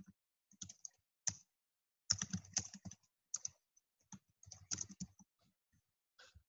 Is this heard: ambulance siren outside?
no